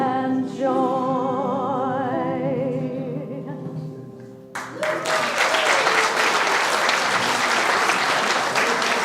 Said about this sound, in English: Have it another round of applause for them